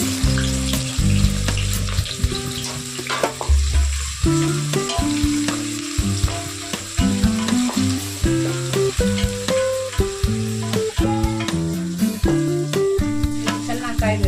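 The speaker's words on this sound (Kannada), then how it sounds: "ಆಮೇಲೆ ಎಣ್ಣೆ ಕಾದ ಮೇಲೆ ಇಷ್ಟು ಈರುಳ್ಳಿಯನ್ನು ಕಟ್ ಮಾಡಿ ಇಟ್ಕೊಂಡಿದ್ದೀನಿ, ಅದನ್ನು ಹಾಕ್ಕೊಳ್ಳಿ." Chopped onions dropped into hot oil with cloves and cardamom for egg biryani, sizzling loudly and continuously while a spoon stirs through the pan, with ringing metallic clinks and scrapes throughout.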